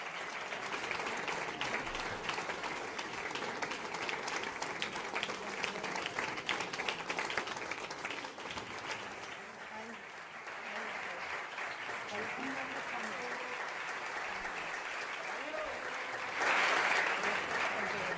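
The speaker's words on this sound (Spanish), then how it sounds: "Comparece Ángel Gabilondo, rodeado por su equipo, que irrumpe en aplausos" Sustained applause from the Socialist candidate's team gathered in a hotel before a press appearance, a dense, steady patter of clapping that continues throughout, briefly swelling louder near the end.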